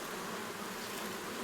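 Honey bees buzz in a steady, dense hum around an apiary in New Caledonia, continuous and close with no pauses and no voices.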